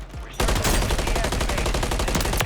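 Dense, sustained automatic gunfire from the video game Warzone, with rapid overlapping shots that hit abruptly and rattle on continuously at close range and high volume.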